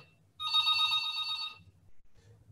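A telephone rings with a single electronic trilling burst of just over a second, clear and close against a faint low background hum, then falls silent.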